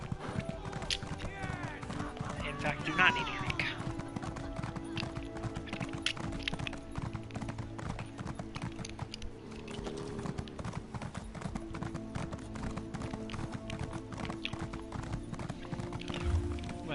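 Steady clip-clop of horse hooves during in-game riding, continuous and close, with a horse's whinny and someone talking over it throughout.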